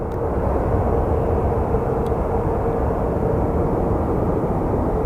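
Airliner departing Phoenix Sky Harbor Airport for JFK, a loud steady low roar of jet engines with broadband rumble that holds constant, heard from the ground with no talking.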